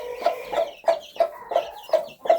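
A hen tending her newly hatched chicks clucks in a steady rhythm, seven short, close clucks evenly spaced about a third of a second apart, with no other sounds.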